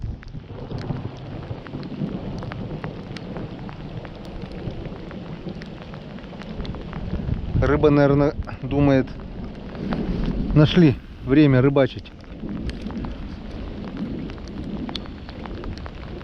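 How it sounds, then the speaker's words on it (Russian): Long rolling thunder rumbles on through steady rain during a night spring thunderstorm at a fishing spot, with someone talking briefly over the downpour in the middle. "Такой затяжной гром."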